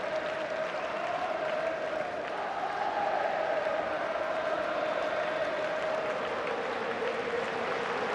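A football stadium crowd at a World Cup fixture sends up a steady, continuous roar of cheering and applause that holds at an even level throughout, with faint commentary underneath.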